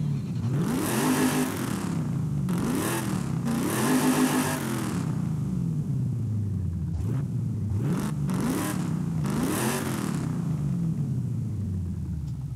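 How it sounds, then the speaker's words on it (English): A 1996 Chevy Impala V8 revving in the racing game Forza Horizon 5, unmodified: loud repeated throttle blips rise and fall in pitch over a deep rumbling idle, with no talk. "it's a nice V8 rumble already"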